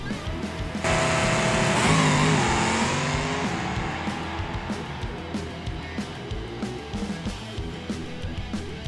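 A Gavril D-Series truck in BeamNG launches on a 500 shot of nitrous as the trans brake releases: a loud engine roar rising in pitch as it accelerates, then settling into a rhythmic, pulsing drone.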